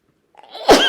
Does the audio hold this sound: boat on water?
no